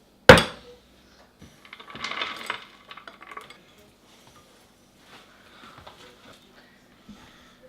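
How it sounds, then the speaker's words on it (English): Cookie dough being stirred into a bowl by children at home, opening with a sharp clatter of utensil on bowl, then scraping and tapping bursts that thin into sparse, quiet knocks. "get my nieces now to stir this into the actual bowl"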